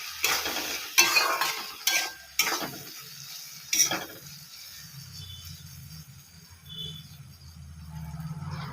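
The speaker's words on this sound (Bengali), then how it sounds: "লতি পুরো ভাজা হয়ে গেছে" Taro stolons (kochur loti) frying in a pan, a few sharp spoon scrapes and stirs at the start, then a low steady sizzle continuing quietly underneath.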